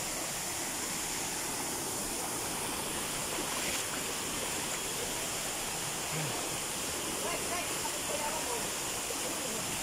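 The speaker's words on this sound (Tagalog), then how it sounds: "Ayan yung falls oh." A rocky waterfall roars as a steady broadband rush of falling water, constant and moderately loud from start to finish with no breaks.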